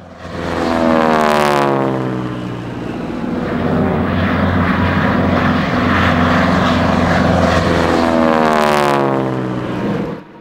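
World War II RNZAF North American Harvard trainers fly past in a formation display. The loud propeller-engine roar builds, holds with a sweeping, phasing drone, then swells again as another pass comes through, with no talking.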